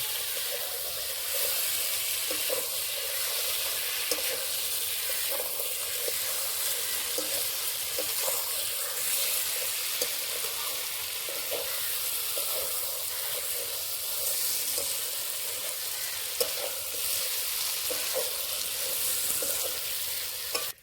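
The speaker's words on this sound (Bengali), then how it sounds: "ভেজে রাখা সবজিগুলো দিয়ে দেব এখানে মাছও আছে সব আছে একসাথে দিয়ে দিচ্ছি এবার কিছুক্ষণ কষে নেবো" Prawns stir-fried in spiced oil together with fried potato and eggplant: a steady loud sizzle with repeated scraping and stirring strokes, continuous throughout with no talking.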